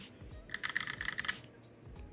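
Someone types on a mechanical keyboard with red switches: a quick burst of about a dozen keystrokes that clatter softly at close range, with quiet room tone before and after.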